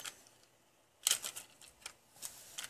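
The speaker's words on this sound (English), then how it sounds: "And then you just simply pull off the clear shell." A clear plastic shell being pulled off a clock during kit assembly gives a sudden crisp snap and crackle of plastic. A few lighter clicks and rustles follow, close and fairly quiet, with no talking.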